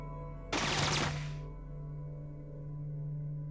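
A single short burst of 10mm SMG fire in the Fallout video game, sharp and loud for about a second over a steady low hum, then fading into quiet.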